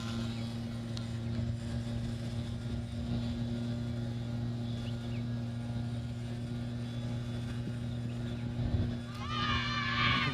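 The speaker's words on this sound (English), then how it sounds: "Apologies for the noise in the background from the leaf blowers and the whippersnippers" Leaf blowers and whipper snippers drone steadily in the background beside a youth cricket match, a constant motorised hum with a stable low tone running throughout.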